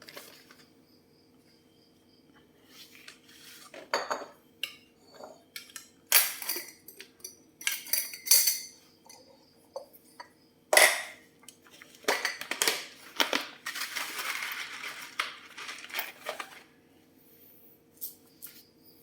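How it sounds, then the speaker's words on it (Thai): Medium-roast Colombian coffee beans poured into a glass storage jar, a crisp rattling cascade of small bursts and scattered clicks, close and fairly quiet, with no talking. "เอามาเทใส่ในขวดโหลดีกว่าจะได้เก็บความชื้นนะครับ"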